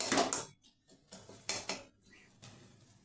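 A spoon scrapes and clinks against a pan as spice masala is stirred and fried with a little water for a jackfruit curry, in a few short, close metallic strokes separated by quiet gaps.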